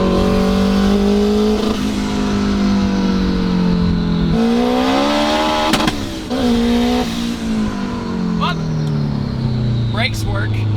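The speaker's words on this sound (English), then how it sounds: "just highway cruising in the 600 plus wheel horsepower S2000 with a hood exit" Big-turbo Honda S2000 making over 600 wheel horsepower, fitted with a hood exit, accelerating hard on a highway. The engine drones and climbs steadily in pitch with a shift midway, loud and close throughout, with someone talking over it.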